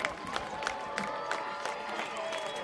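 Home crowd at a baseball game in Oklahoma City cheering a home run, a distant roar of cheering with scattered claps running under a broadcaster's voice.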